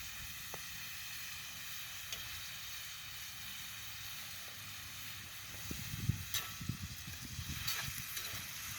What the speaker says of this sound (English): These mushrooms have a lot of moisture, so it takes a while for them to fry up and saute.